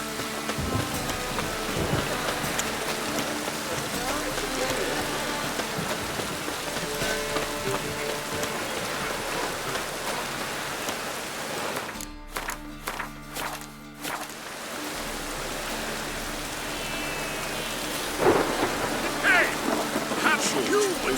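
Steady heavy rain pours in The Witcher 3, with low rolling thunder rumbling through and a brief lull midway, plus faint footsteps and some in-game talk underneath.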